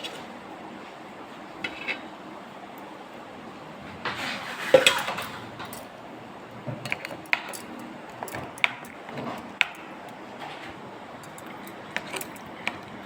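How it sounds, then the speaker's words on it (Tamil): Garlic chilli podi made with coconut, chilli powder and roasted gram is stirred with oil in a metal bowl, a spoon scraping and clinking against the sides in scattered sharp taps, no talking. "நல்லா கலந்து விடுங்க எண்ணெய் ஊற்றி."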